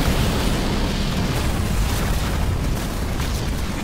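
A large structure explodes in the Halo Wars 2 strategy game, a loud, sustained booming blast with rumbling debris that fills the whole moment without any talk.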